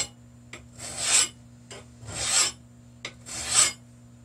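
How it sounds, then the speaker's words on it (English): A metal file deburrs a freshly drilled hole in a steel plow part, making three long rasping strokes. Short scraping taps come between the strokes, and the sound is close and clear with no voices. "After you drill out your hole and you get the size you want, always go by and deburr your hole with a file."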